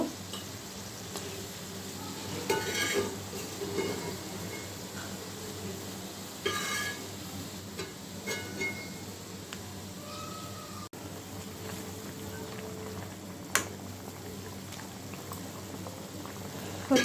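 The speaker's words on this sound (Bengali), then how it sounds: "মশলাটা কষানো হয়ে গেছে এখন জল দিব মাছগুলো দিয়ে দিব" Water and small puti fish simmering in a pan over fried spices, a steady low bubbling with occasional soft pops and stirs throughout, close and fairly quiet.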